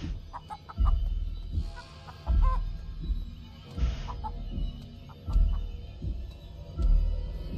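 Low clucking thumps from a giant chicken in the game Chicken Feet pulse at a steady rhythm about every second and a half, with faint higher chirps between them and no talking.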